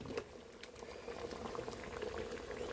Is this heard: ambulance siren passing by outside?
no